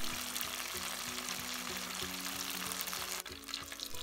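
Pieces of chicken karaage deep frying in hot oil during the second fry, a dense continuous sizzle and bubbling crackle heard up close and alone, briefly dipping near the end.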